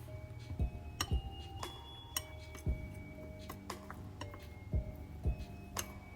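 A utensil clinks and taps against a bowl while almond flour is stirred into eggless cookie dough, a faint, irregular series of sharp little knocks close by.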